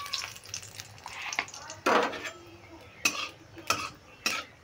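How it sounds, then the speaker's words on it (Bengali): Black cumin seeds and split dried red chilies crackle in hot oil in a kadai, with soft sizzling, scattered sharp pops and faint utensil clinks close by. "ফোড়নটা একটু ভেজে নিলাম।"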